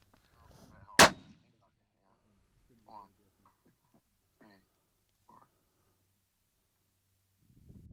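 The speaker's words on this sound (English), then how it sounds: "No, just shoot the same shot with the elevation." A long-range rifle fires one sharp, loud shot early, then an outdoor quiet follows with brief faint voices and scattered small sounds.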